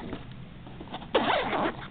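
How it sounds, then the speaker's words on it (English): A zipper is pulled closed on a Maxpedition Malaga Gearslinger sling bag, with soft handling rustle before one quick, loud, close zip stroke. "I'm going to set this down to zip that up"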